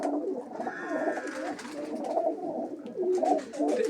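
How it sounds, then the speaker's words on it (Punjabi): Female pigeons coo steadily and close by, a dense overlapping chorus of low throaty calls with no talk over it. "ਇਹ ਤਾਂ ਹੋ ਗਈਆਂ ਕਬੂਤਰੀਆਂ"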